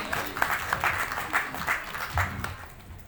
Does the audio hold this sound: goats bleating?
no